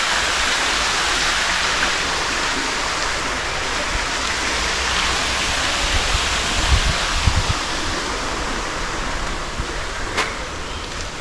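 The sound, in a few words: water fountains running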